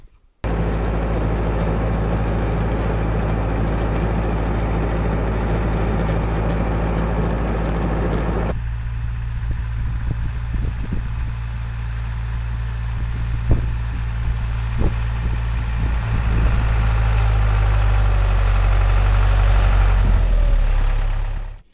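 A tractor-mounted snowblower engine runs steadily with a loud, constant low hum and drone, its tone shifting partway through, with a few faint knocks and clunks over the steady running.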